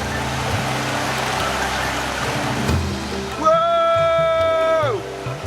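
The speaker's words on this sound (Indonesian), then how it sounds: "suara air terjun di tengah bebatuan sempit ini semakin kuat mendorong untuk terus melangkah" A hidden waterfall pours among narrow rocks at Kukup on the Waibesai river, giving a steady rushing hiss of water. A sustained tonal sound cuts in over the water near the end.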